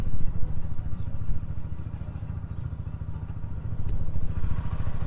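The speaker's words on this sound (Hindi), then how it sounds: "साइड में गाड़ी की आवाज़ आ रही" A motor vehicle engine runs close by with a steady low throbbing rumble and some rattling, continuous throughout.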